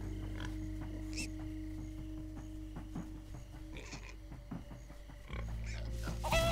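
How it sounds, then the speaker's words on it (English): Several Minecraft Story Mode pigs oinking and grunting in irregular bursts over a steady electronic hum, with a few sharper squeals. "Pig, all pigs but Reuben, shut up"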